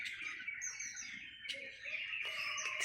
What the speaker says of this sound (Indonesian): Burung kita dekatkan si jantan dan betina biar mereka saling